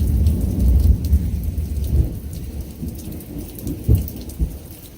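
Heavy rain pours steadily through a thunderstorm while deep thunder rumbles close by, swelling near the start and returning in rolling bursts over the constant downpour.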